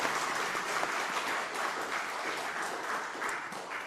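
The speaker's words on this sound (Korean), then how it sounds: "우리 하나님 앞에 또 성가대 우리 격려에 한 번 더 박수하겠습니다" Steady, dense applause fills a church as the congregation claps for the choir after a hymn, continuous and fairly loud with no break for the whole stretch.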